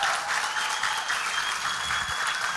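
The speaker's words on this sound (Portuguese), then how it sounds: "Então eu quero que vocês fiquem em pé, por favor, e aplaudam esse grupo aqui na frente" Church congregation at a family congress applauding a group at the front, dense steady clapping throughout at close range, no speech over it.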